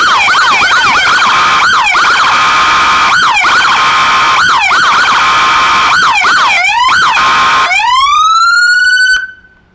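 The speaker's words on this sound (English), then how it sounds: "Okay, the siren's off" A loud, close emergency vehicle siren cycles through rapid repeating yelps. It then winds up into a long rising tone and cuts off abruptly at the end.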